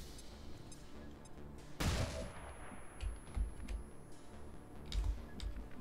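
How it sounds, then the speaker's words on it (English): A flashbang grenade detonates in XCOM 2 during a hive infestation mission: one sharp, loud bang with a burst of crackle, followed by scattered softer impacts and game noise. "Perfect turn, by the way, for a nice little flashbang"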